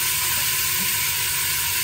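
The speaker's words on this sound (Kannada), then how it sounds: "ಈಗ ಒಂದು ಟೊಮೆಟೊ ಮತ್ತೆ ಒಂದು ಕ್ಯಾರೆಟ್ ಹಾಕಿ ಫ್ರೈ ಮಾಡಬೇಕು." Onion, tomato and carrot frying in a pan for veg pulao, a steady close sizzle holding at an even level throughout with no talk.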